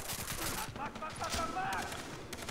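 Sustained light machine gun fire in the co-op shooter Far Cry 3, a dense, loud burst of rapid shots running through the clip, with faint voices underneath.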